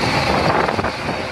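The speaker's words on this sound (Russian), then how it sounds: "Ветер поднимается до 16 метров в секунду и крушит все на своем пути." Strong hurricane-force storm wind sweeping through Moscow streets, a loud continuous roaring rush buffeting the microphone, with no voices over it.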